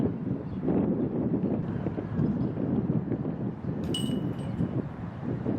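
Gusty wind buffets the microphone on an outdoor disc golf course, a continuous low rumbling rush at steady strength.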